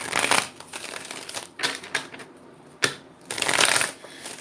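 Tarot deck shuffled by hand, several quick riffling bursts with short pauses between, close and fairly soft, with no talking.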